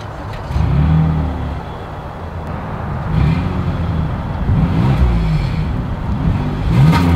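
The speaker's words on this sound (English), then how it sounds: "As always, here is that exhaust clip." A 2022 Toyota Highlander XSE's exhaust at close range as the engine is revved in repeated blips, each rising surge of engine note dropping back between pulses, with no talk over it.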